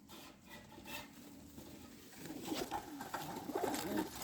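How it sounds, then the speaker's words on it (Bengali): A Sirazi pigeon is let go from the hand and flies off. Soft rustling gives way to a louder flurry of wingbeats near the end, close by and otherwise quiet. "আর কবুতরটা আমি ছেড়ে দিলাম এই যে কবুতরটা চলে গেল"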